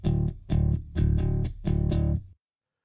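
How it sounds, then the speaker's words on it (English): A light distortion effect from a PSP InfiniStrip preamp plugin colours a buzzy, sustained synth or bass line, played as four loud phrases in a steady rhythm that cut off cleanly into silence. "Sometimes you want just a touch of distortion added to it, just a tiny bit."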